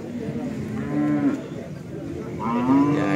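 A young Limousin cow at a cattle market gives two close, drawn-out moos, one early and one near the end, with faint background chatter.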